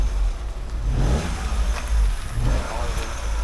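A car engine revs and struggles, unable to settle into a proper idle, its low rumble surging unevenly at close range throughout.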